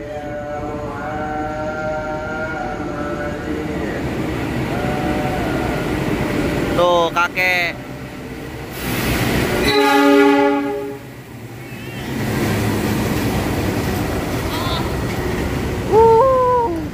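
Lodaya passenger train passing at night, a rumbling approach with long horn blasts and a loud whoosh as the cars go by, a voice and other people talking over it.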